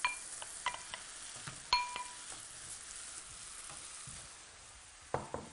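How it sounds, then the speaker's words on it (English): Carrots, potatoes and mushrooms sauté in a pan with a soft, steady sizzle, broken by a few sharp clinks and taps of a utensil against the pan, louder near the end. "the carrots and the potatoes are starting to saute"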